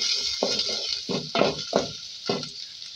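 Chopped onion and garlic are stirred and lightly fried in oil, giving a steady soft sizzle, with several close spoon-against-pan scrapes and clinks on top.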